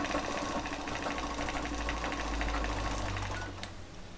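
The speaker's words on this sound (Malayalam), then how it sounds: "കറക്റ്റ് ലൈനിൽ തയ്ച്ച് പോകാം ചുളുങ്ങരുതേ" A sewing machine stitches a trouser seam with a steady, close, continuous mechanical whir that eases off slightly near the end, with no talking.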